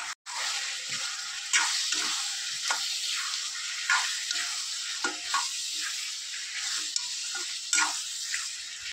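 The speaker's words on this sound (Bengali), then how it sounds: "এখন দিয়ে দেব মাংসগুলা। ধুয়ে রাখা মাংস দিয়ে দিচ্ছি।" Goat meat hisses in hot oil with onion and garlic, a continuous close sizzle dotted with soft clicks and taps of stirring throughout.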